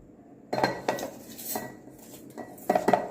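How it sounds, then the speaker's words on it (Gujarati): Dry moraiyo millet is tipped into a steel mixer jar in a kitchen, giving a few light metallic clinks and rattles in short bursts, fairly close and quiet, with no talk. "હવે આપણે એક મિક્સરનો જાર લઈશું એમાં આપણે આ મોરૈયો એડ કરી દઈશું"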